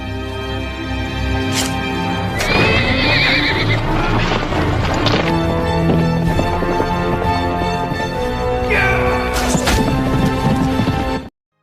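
A horse neighs loudly twice, nearby, over steady clip-clopping hooves and some heavy thuds, dramatic and close.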